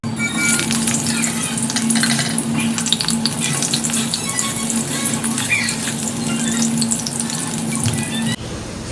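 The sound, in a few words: potatoes frying in oil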